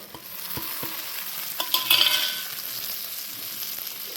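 Reddened lentils frying in a pan as tomato and ginger are tossed in: a few light taps of a utensil, then a brief louder burst of hissing sizzle that settles back into a steady soft frying hiss, close, with no voices.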